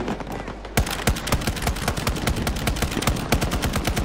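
Rapid automatic gunfire in the shooter game Battlefield 2042 on PS4, a dense burst of sharp shots after a brief quieter start, loud and up front with a short pause before firing resumes.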